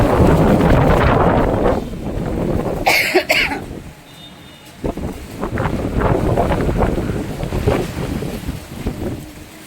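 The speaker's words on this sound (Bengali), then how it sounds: "খুব জোরে হাওয়া দিচ্ছে, আমার গাছগুলো দেখে বুঝতে পারবে" Strong gusty wind blows through garden plants, roaring and buffeting the microphone. It rises and falls in loud waves, with a brief bright rustling burst partway through.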